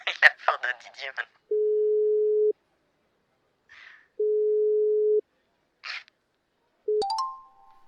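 A French telephone call back makes steady, low ringing tones that come in bursts about a second long: two full ones and a third cut short, with brief talk before and small noises in between.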